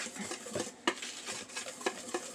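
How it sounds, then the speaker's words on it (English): Dry ingredients for peppermint bark chocolate chip cookies being whisked in a bowl, quiet rapid scraping and clinking strokes in an uneven rhythm, close but faint. "we whisk all the dry ingredients"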